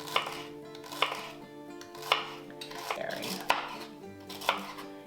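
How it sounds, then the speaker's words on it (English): A knife chops celery on a cutting board in a steady series of crisp knocks, roughly one per second, close and clear with light clatter between strokes and no talking. "We're just gonna chop this up."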